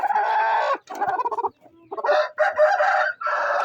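Six Indian Gurk chickens (a Turkish breed of fowl) crowd together in one coop, giving loud, close, overlapping crowing and clucking calls in repeated bursts that fill the short stretch with barely a pause.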